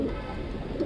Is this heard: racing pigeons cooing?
yes